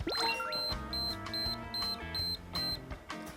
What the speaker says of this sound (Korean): 이렇게 삐삐삐 소리가 7번 나는 게 한 샷이에요